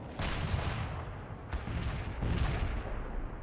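Heavy artillery barrage in the war video game World in Conflict, a dense, rumbling wall of booming blasts with a few sharper cracks breaking through, continuous and loud throughout.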